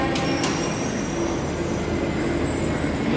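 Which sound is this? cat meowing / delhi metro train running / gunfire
delhi metro train running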